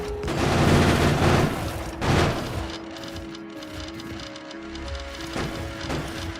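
Gun turrets in the modded Factorio video game fire at spider nests, a dense rapid barrage of shots and booms with a steady mid-pitched tone running underneath, loud and continuous throughout.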